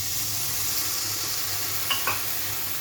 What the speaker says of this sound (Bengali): মশলা ভাজা আমার হয়ে গেল।